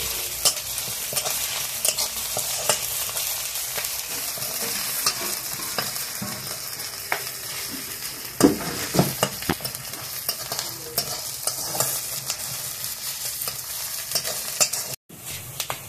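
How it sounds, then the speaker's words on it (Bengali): Onion, ginger and garlic fry in a pan for a chicken and vegetable curry, giving a steady loud sizzle broken by scraping stirs, continuous until a brief cut near the end. "পেঁয়াজ, আদা, রসুন ভালোভাবে ভেজে নিয়েছি।"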